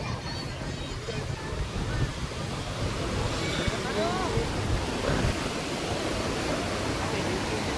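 Sea waves wash against the shore near a temple wall in a steady, broad roar of surf, with wind buffeting the microphone throughout and no clear breaks in the noise.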